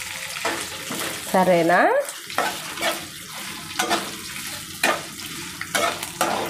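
Ingredients for mango chutney, including chillies, sizzle and fry steadily in a pan, close and continuous, with intermittent stirring scrapes. A voice speaks briefly over the frying.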